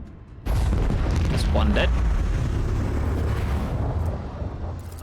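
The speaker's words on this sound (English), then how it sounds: "Engage the macro cannons!" Macro cannons firing from a starship in Warhammer 40,000: Rogue Trader, a sudden heavy booming blast that erupts after a brief lull and rolls on as a sustained rumbling roar, with a voice speaking over it.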